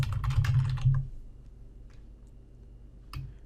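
Computer keyboard typing in an office setting, a short burst of quick clattering keystrokes in the first second, then near quiet with a few scattered taps and a final single press.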